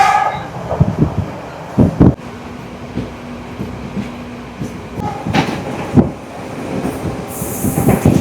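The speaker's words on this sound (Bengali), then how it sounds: "ট্রেন যাচ্ছে, দেখো ছোট্ট ট্রেন।" Small, crowded passenger train on the Sri Lanka railway, heard from inside as a steady rumble with clanks, thumps and brief squeals, plus faint voices in the carriage.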